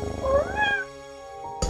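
A chubby cat gives a single rising, wavering meow close by, followed by a quieter low tail and a brief sharp noise at the end, with no voices.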